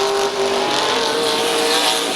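A number 37 race truck laps the Midvale Speedway track, its engine roaring loud and close in a sustained howl, with tire noise and other trucks blending into the steady racing din.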